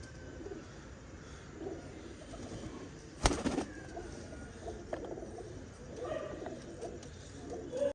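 Low pigeon cooing murmurs through a quiet yard, broken midway by a sharp handling clatter, with scattered faint chirps afterward.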